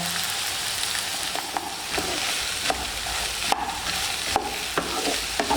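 Ivy gourd (kovakkaya) is tossed with salt in a pan, with a soft sizzle underneath and repeated scraping and knocking strokes from stirring at a steady pace.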